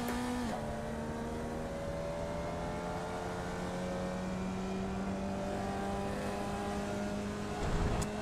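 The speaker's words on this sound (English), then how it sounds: "I think what I'm doing is I'm over-revving the engine, too" Race car engine in the iRacing sim holding a steady high drone that climbs slowly in pitch as it revs hard, with a sharp shift near the start and a brief rise in noise near the end, no voices.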